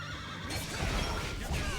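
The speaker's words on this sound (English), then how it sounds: "A horse sound?" A horse whinnies in the video game Tales of Vesperia, one loud rising-and-falling neigh over busy game sound effects, with no talking.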